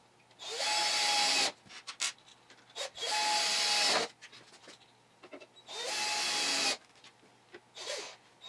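A power screwdriver drives screws into the boards of a FAKIR CNC milling machine being assembled, three loud whirring bursts of about a second each, separated by quieter clicks and handling noise.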